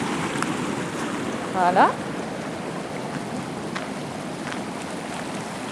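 A small stream flows steadily after a flood, a continuous rushing wash under a brief spoken word and light outdoor wind.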